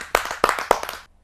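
Scattered hand claps from an audience at a Hindi kavi sammelan poetry gathering, three or four sharper bursts over about a second before trailing off into quiet.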